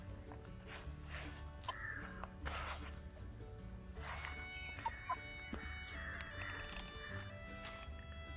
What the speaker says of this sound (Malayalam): കോഴി ഉണ്ട് കേട്ടോ ബാക്കിൽ ഇങ്ങനെ ഒളിച്ചോടി വരുന്നത്.